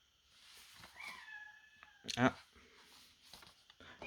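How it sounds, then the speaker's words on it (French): A house cat meows a few times indoors, short and fairly faint, between stretches of someone talking. "mon chat qui miaule là, je sais pas ce qu'il veut"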